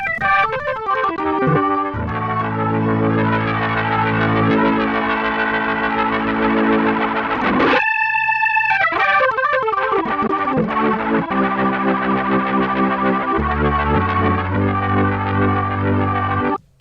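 An organ on a Roland Fantom 8 keyboard plays sustained chords through a swirling, warbling rotary speaker effect, with a brief break midway, continuous and fairly loud throughout.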